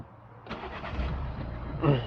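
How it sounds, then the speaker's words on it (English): A salvage Renault Clio diesel engine starting: a brief starter crank, then the engine catches and settles into a steady idle with a small rev at the end, close by. "Now let's start it back up"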